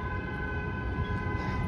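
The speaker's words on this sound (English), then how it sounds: "Why is this car making this really long honking sound?" A car horn holds one long, steady honk on a city street, continuous and fairly distant over low traffic rumble.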